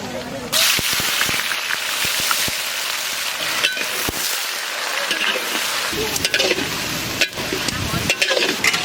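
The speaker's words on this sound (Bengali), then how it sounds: "ফোড়নে নিয়েছি কালো জিরে আর শুকনো লঙ্কা।" Nigella seeds and dried red chillies crackle and spit in hot mustard oil with onion, a loud, close sizzle broken by sharp pops and repeated stirring clanks, with some talk.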